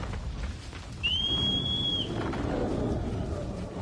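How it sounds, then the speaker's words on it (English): A single clear in-game whistle from Shadow of the Colossus, a thin steady tone held for about a second over a low rumbling background, with no voices. "Whistle"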